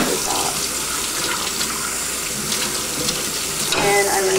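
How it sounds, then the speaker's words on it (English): Tap water runs steadily into a sink while a hookah is rinsed out, a continuous close splashing hiss with a brief change in flow near the end. "Fill that up with water. Alright, rinse this out."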